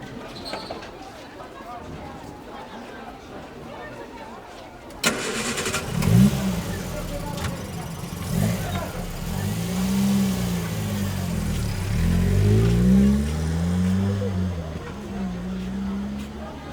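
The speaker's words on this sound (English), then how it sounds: "I'd like to add the sound of a car starting within the market" A car engine is cranked and catches at about five seconds, then revs up and down several times in loud, close bursts that settle into a rough idle, with no talking.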